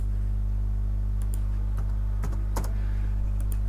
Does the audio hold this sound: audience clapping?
no